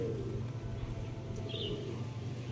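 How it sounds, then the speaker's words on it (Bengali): Domestic flying pigeons, including an older breeding bird kept at a home loft, give low steady murmuring coos. A faint brief chirp rises above them, and no one speaks. "আমার এই বাড়ির ধাড়ি পায়রা"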